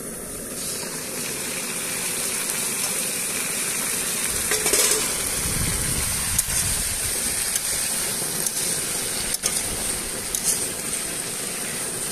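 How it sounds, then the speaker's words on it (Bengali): Malabar spinach and potato hit hot oil with fried garlic, setting off a loud, continuous sizzle and hiss that swells as the vegetables go in, with occasional stirring clicks and no talking. "বন্ধুরা আমাদের রসুন মোটামুটি ভাজা হয়ে গেছে এবারে পুঁই শাক আর আলুটা দিয়ে দিচ্ছি"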